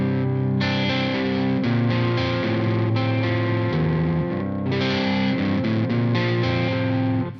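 Clean electric guitar played through a 2x12 cabinet impulse response loaded with Celestion Cream speakers, full sustained chords ringing steadily and loudly, with a fresh strum partway through and no talking.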